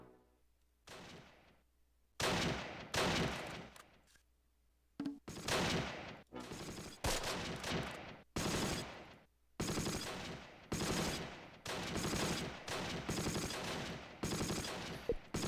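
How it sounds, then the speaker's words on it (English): Rifle team gunfire in the video game Close Combat: Last Stand Arnhem, firing at close targets: repeated loud bursts of shots in clustered volleys, separated by short gaps, with no talking. "My rifle team's firing at like close targets directly across."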